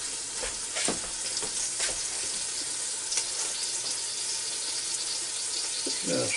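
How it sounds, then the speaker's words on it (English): Steady sizzling and crackling of lamb loin chops cooking in a Ninja Foodi Deluxe, close and continuous, with a few faint clinks. "Oh, they're sizzling away."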